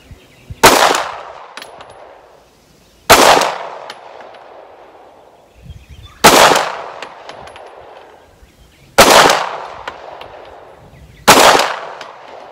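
Five loud pistol shots from a Polymer 80 pistol fired outdoors toward a target at 50 yards, each a sharp close crack with a ringing decaying tail, spaced evenly about two to three seconds apart with no talking.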